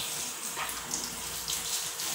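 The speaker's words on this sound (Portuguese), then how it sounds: "Vou lavar aqui os pratos" Water runs from a kitchen tap while dishes are washed, a steady hissing stream at moderate level with no talking.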